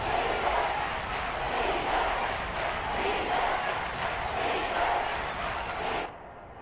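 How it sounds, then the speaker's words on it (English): A football stadium crowd roars in a steady, dense wash of noise ahead of a big third-down play in the fourth quarter, loud and sustained before dropping off abruptly near the end. "The crowd getting into it as we come up on a big 3rd down."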